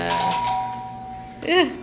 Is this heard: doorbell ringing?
yes